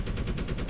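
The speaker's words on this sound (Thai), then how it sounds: "เรายิงปืนกลสกัดไว้ก่อนแล้วกันนะฮะ" Rapid machine gun fire from the Medal of Honor video game, a steady loud stream of shots with evenly spaced bursts running through the whole short stretch.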